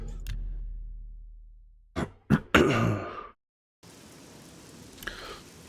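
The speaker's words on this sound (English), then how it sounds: "Now it's raining." Steady broadband hiss of rainfall in the video game Elder Scrolls IV: Oblivion fills the second half, following a few sharp thuds and a brief shuffle of movement.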